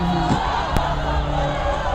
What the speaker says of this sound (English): Rowdy crowd's getting hype.